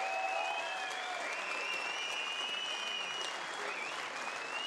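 Audience applause for two boxers after an eight-round bout fills the hall as a steady, moderately distant wash of clapping with a faint high tone running over it.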